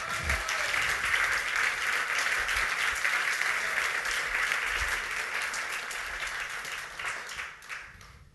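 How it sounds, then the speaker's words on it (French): A church congregation gives a sustained round of applause during a sermon, full-room clapping that stays loud and steady and then tapers slightly at the end. "Est-ce qu'on peut acclamer le roi des rois?"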